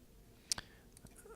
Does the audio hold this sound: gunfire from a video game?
no